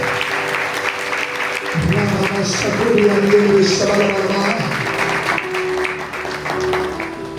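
Church congregation clapping and praising together, steady applause with voices mixed in throughout, moderately loud and sustained.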